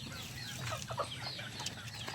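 Native chickens cluck in short bursts, several birds calling close by over a low background hum, with no talking.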